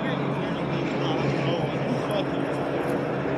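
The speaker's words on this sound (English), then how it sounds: "We got two planes in the sky." A steady, loud drone of two airplanes' engines fills the whole clip, a continuous rumble overhead in Kirkersville, Ohio, with no clear breaks.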